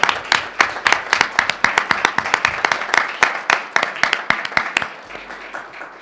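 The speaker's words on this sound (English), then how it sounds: "So, round of applause for the Players Club." Applause for the Players Club at a board of education work session, several seconds of steady clapping from a modest crowd, close and fairly loud, tapering off at the end.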